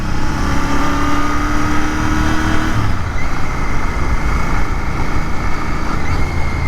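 A Royal Enfield GT 650 motorcycle engine drones steadily and loudly during a ride, with a brief shift in pitch partway through, wind rushing over it and no talk.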